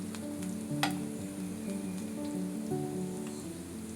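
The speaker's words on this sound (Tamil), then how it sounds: "இப்போ வெங்காயம் பார்த்தீங்கன்னா நல்லா பொன்னிறம் வர வரைக்கும் வதக்கியாச்சு" Onions fry in oil in a pan for brinjal rice, a steady close sizzle and crackle with a sharp pop or two, no talking.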